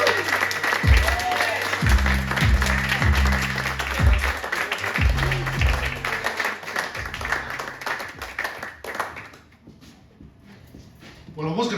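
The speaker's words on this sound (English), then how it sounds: "if we could have the biggest round of applause we've had this evening for our wonderful headliner" Audience applauds and cheers for the headline comedian at an open mic night in an attic venue. The dense clapping runs under a host's speech and rhythmic thumps, then thins out near the end.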